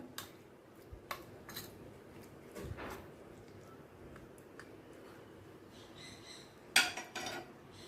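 Poppy seed paste being mixed in a bowl with a splash of bowl-rinsing water for a Bengali patol posto bhapa, heard as faint, scattered scraping and clinking taps with a brief louder clatter near the end.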